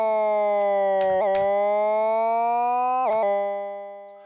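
A sustained Waldorf M synthesizer tone with a looping envelope holds steady with a couple of brief pitch bumps, then fades out smoothly as the note releases and the loop stops.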